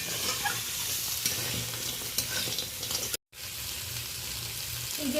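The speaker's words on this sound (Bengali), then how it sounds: "পেঁয়াজের সাথে আমি কাঁকড়াটাকে ভালো করে নেড়ে নিয়েছি, বেশ লালচে হয়ে গেছে কাঁকড়াটা।" Small crabs stirred with onions in a hot pan, a steady close sizzle of frying with scraping stirs throughout and a brief dropout partway through, no voices.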